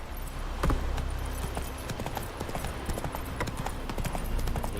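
Roach, a horse in The Witcher 3, trots along with a steady, fairly close clip-clop of hooves over a constant ambient game backdrop.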